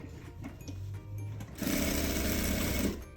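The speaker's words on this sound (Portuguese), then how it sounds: "eu vou fazer uma costurinha aqui de segurança só pra prender a manta" A sewing machine runs a short securing seam through fabric and a quilt batting layer, starting with a brief slower burst and then running fast and steady for over a second, loud and close with no talk.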